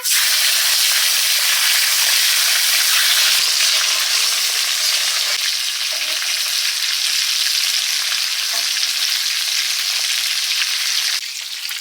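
Fish fries in a pan with hot oil, giving a loud, dense, steady sizzle and hiss that runs unbroken from start to finish at close range.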